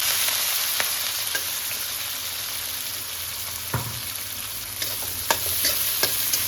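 Chopped onions sizzle in hot oil in a pan for keema, a steady crackling fry under occasional clicks and scrapes of a stirring spoon, close and unaccompanied by talk.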